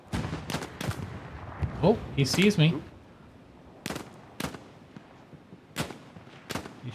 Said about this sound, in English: He's shooting at me like crazy.